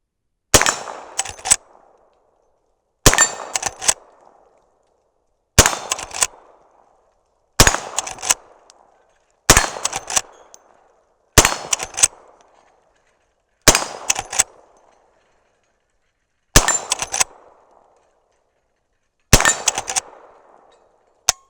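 .357 Magnum rounds, powder-coated 158-grain semi-wadcutters, fired from a Henry Big Boy rifle at swinging steel plates roughly 10 and 20 yards away: nine sharp, loud shots at a steady pace of about one every two seconds, each followed by a brief ringing clang.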